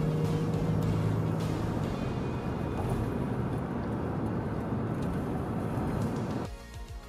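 A Toyota Land Cruiser drives along a Danish road near Odense toward the Great Belt Bridge, with a steady, even engine and tyre rumble heard from inside the vehicle that drops off near the end.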